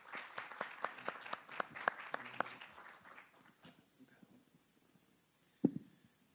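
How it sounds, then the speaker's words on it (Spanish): A university audience claps to welcome a professor before his lecture, a scattered round of hand claps that thins out and fades after a few seconds, followed by near quiet and one sharp knock. "le damos un aplauso para recibirlo al profesor Matalini"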